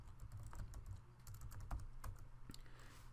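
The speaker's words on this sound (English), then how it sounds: "type my full name into this box" Soft, quick keystrokes on a computer keyboard as a full name is typed into a form field, an uneven patter of clicks that is close but very quiet.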